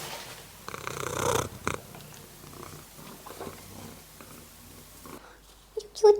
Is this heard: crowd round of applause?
no